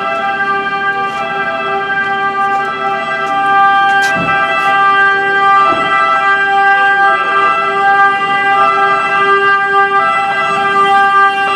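An emergency vehicle siren sounds loud and close near a fish market, a steady sustained tonal wail that runs the whole length without a break over faint traffic rumble.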